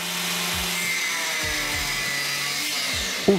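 An angle grinder cutting through a Pewag 10 security chain in a lock test, producing a steady, loud, continuous abrasive whine and hiss with a few low knocks underneath.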